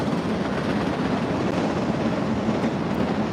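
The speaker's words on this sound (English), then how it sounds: "Sorry, it's gonna be loud while the train comes by." A train rumbles past at night in Las Vegas, a loud, continuous, close roar that holds steady from start to finish with no talking over it.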